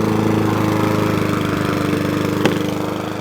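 A Mountfield 414 lawnmower engine runs steadily close by, a continuous throbbing drone with even low pulsing, one small clunk near the end, and no talk over it.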